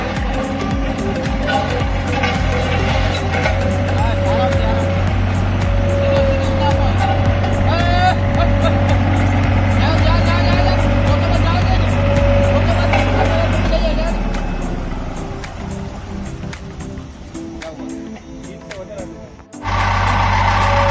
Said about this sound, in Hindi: रोलर ऊपर से चढ़ नहीं पा रहा